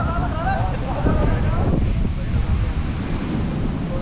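Surf washes onto a Goa beach lined with coconut palms, a continuous loud roar mixed with wind rumble against the microphone; a voice speaks briefly at the start.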